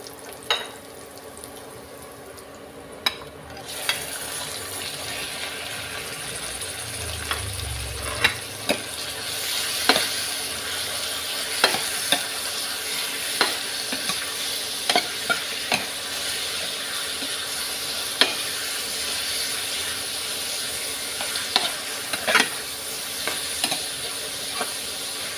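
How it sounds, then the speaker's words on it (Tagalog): Pork frying with ginger in a pan, a long steady hiss of sizzling oil broken by frequent sharp pops and crackles, with a soft low thump of stirring near the start, close and moderately loud throughout. "Pag medyo lumalabas na po yung aroma ng luya, pwede na po natin ilagay ang ating pork."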